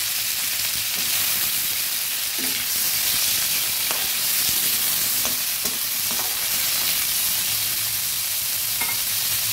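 Cut drumstick (sajna) pieces fry in hot oil while being stirred in a pan, a steady close sizzle broken by occasional scraping and clinking of the spatula against the pan.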